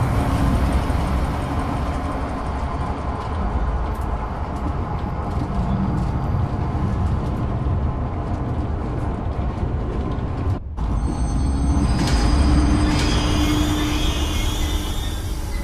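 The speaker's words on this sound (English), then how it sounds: "start the train" A train in the game Zoochosis starting up and running, a steady broadband rumble of wheels and motor that carries on continuously, with a brief dropout partway before the rolling noise resumes slightly brighter.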